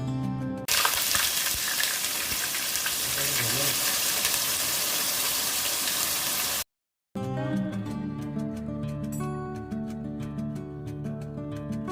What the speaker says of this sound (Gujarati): જીરું તતડી જાય પછી આપણે જે ડુંગળીને ક્રશ કરીને રાખી હતી એ ડુંગળી એડ કરશું